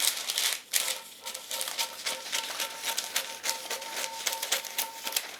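Scissors cutting through folded parchment paper, rapid crisp snips and a rustling shear, close and fairly loud, continuing steadily with no talking.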